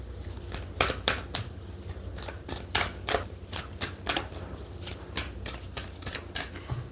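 Oracle cards are shuffled for a tarot reading in a quick run of crisp riffling slaps, close and fairly loud, with no talk over them.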